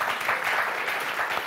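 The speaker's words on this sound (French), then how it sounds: "Eh, Odile, applaudissements, s'il vous plaît." Applause from a TV game show studio audience on the French word show Motus, a steady dense wash of clapping that holds evenly throughout.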